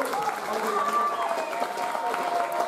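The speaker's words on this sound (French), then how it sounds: "On applaudit." At the Miss Beauté Franche-Comté 2019 beauty pageant, the audience applauds, a soft, diffuse spread of clapping mixed with a sustained tonal background.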